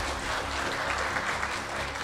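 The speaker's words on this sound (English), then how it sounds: "Can you give a round of applause again?" Audience applause following a signing ceremony between a bank and a metals company in Malaysia, a dense, steady burst of clapping from a crowd lasting a couple of seconds.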